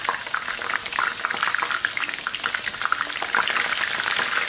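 Battered chicken pieces for sesame honey chicken deep fry in hot oil, giving a steady, close, bubbling crackle that holds at an even level from start to finish.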